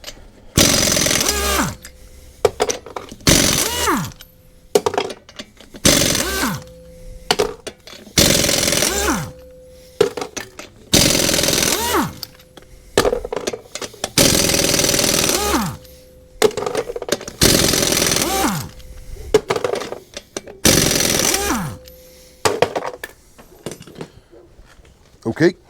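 Fortress 26-gallon air compressor driving an air impact wrench in reverse, removing lug nuts torqued to about 160 foot-pounds; repeated loud, close bursts of hammering rattle separated by short pauses, with talk in between.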